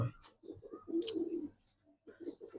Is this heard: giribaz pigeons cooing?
yes